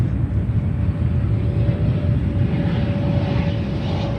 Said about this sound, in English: there we get the CRJ 200 in the SkyWest livery